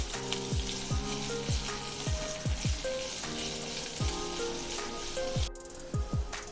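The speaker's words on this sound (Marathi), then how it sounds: "कांदा आपण दोन ते तीन मिनिट छान सॉफ्ट होईपर्यंत परतून घेऊया" Thinly sliced onions fry in a pan with a continuous close sizzle, accompanied by background music with soft rhythmic hits.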